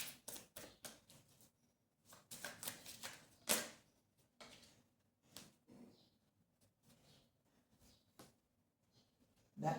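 Tarot cards drawn one after another from a deck, giving close, crisp papery snaps and slides in an irregular rhythm with no talking.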